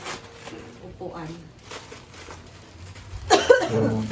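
A person coughs from an itchy throat indoors while unpacking new dining chairs for the house, with a short burst of coughs near the end after quiet talk.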